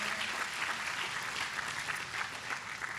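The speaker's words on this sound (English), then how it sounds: "Let's give him a big round of applause" An audience at a National Action Network event in Manhattan applauds, a dense, even wash of many hands clapping that holds steady and fairly loud for the whole stretch, with no voices rising above it.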